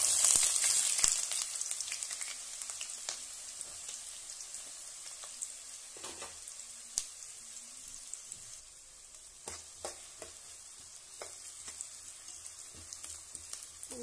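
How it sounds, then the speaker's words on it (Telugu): Onion pieces fry in hot peanut oil for a fish curry, giving a close, steady sizzle with sharp crackles and occasional clinks of stirring that ease slightly toward the end. "ఉల్లిపాయలు కొంచెం వేగేస్తున్నాయి"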